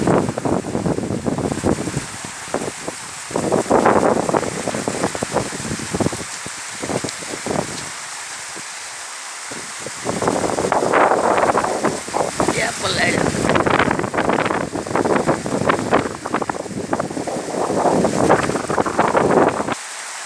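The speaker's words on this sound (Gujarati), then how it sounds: "કેટલો પવન સાથે વરસાદ" Steady rain with gusting wind buffeting the microphone in Vejalka village, Ranpur taluka, Botad district, Gujarat, a continuous roaring wash that swells and drops, heavier in the second half.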